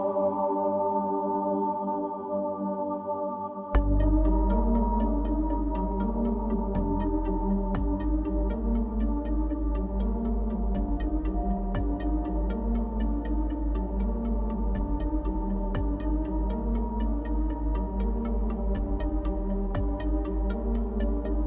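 A choir sample library arrangement with added sub bass and mastering, where soft sustained voices give way to a fuller mix with deep bass and a steady rhythmic pulse, continuing evenly with no speech.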